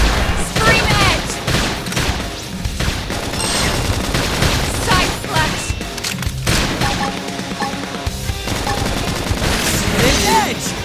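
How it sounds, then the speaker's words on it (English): Rapid gunfire bursts and booms ring out in a Xenoblade Chronicles X battle, loud and dense under shouted combat callouts and a music bed, with volleys recurring throughout. "If we can just tackle them with gunfire."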